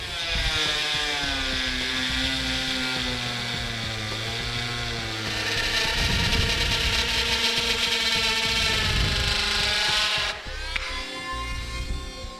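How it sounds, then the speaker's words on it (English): A rotary tool grinds steadily through thick plastic trailer hitch fascia, a continuous high whining buzz that wavers in pitch, heard up close and alone until it cuts off sharply near the end. "if you have a rotary tool, works really well also because the fascia is pretty thick"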